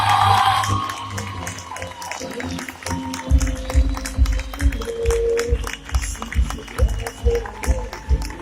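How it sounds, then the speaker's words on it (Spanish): An audience at a corporate stage event in Pereira gives loud applause with cheering, whoops and shouts to welcome a speaker, sustained throughout, with an amplified voice over the crowd. "ayúdenme a recibir con un muy fuerte aplauso al diamante ejecutivo Juan Carlos Esquivel."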